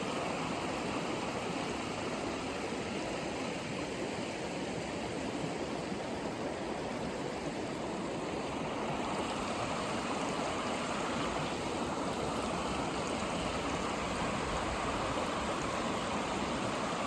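A wild mountain stream in Patagonia, Chile rushes steadily and loudly for the whole stretch, a dense, unbroken wash of flowing water with no voices.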